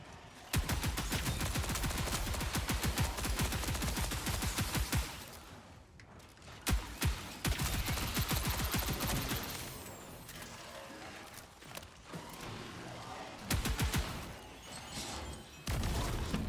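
A heavy artillery weapon in the video game Marathon fires in long, rapid, loud bursts with short pauses between volleys, continuing throughout.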